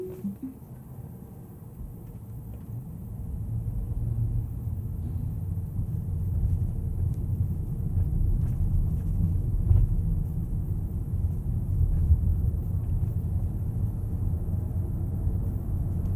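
A Tesla Model Y electric car driving on the road around Diamond Head at sunset, a low steady interior rumble of tire and road noise that swells slightly and holds, with no talking.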